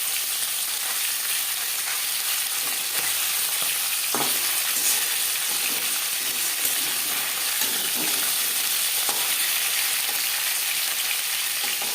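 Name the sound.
snakehead fish frying in a pan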